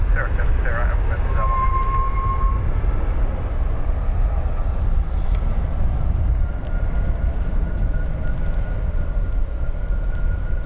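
An Emirates airliner lands at Dublin Airport and brakes along the full length of the runway, producing a loud, sustained broadband roar that stays even throughout.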